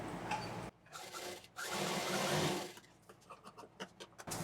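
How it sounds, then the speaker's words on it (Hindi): A sewing machine stitching handbag fabric, running in bursts of rapid whirring stitching separated by brief pauses, close by and fairly quiet, with no talking. "नीचे लाइन को देखते हुए इसको पूरा सिल देना है।"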